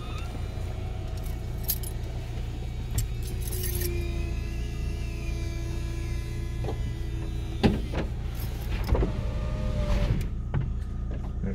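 The electric convertible roof of a Vauxhall Astra G Bertone runs its motor with a steady whine over a low hum, joined by mechanical clicks and clunks as the roof moves, close and continuous.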